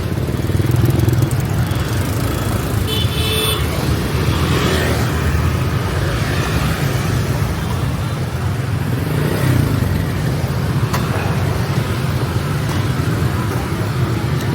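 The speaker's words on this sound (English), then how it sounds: "Look at this maelstrom of traffic" Busy street traffic of cars and motorcycles: a loud, continuous, close roar of engines with occasional revving as vehicles stream past, with no clear talking.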